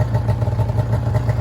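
A vintage Arctic Cat ZR580 snowmobile engine idles on a cold day after warming up, a loud, steady, slightly pulsing low rumble with light clattering throughout.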